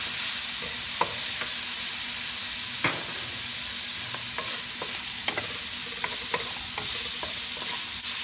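Onions stir-fried with squid and tofu sizzle steadily in a hot pan, broken by scattered sharp scraping clicks of a spatula stirring, with no voices present.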